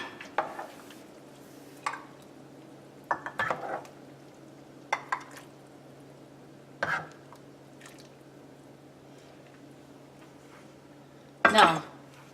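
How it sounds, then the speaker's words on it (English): Red Thai curry with tofu served from a pot: intermittent clinks and scrapes of a spoon against metal and dishes, a few sharp knocks spaced apart over a low steady hum, with a louder clatter near the end. "I'm going to shut the gas off and I'm going to serve it"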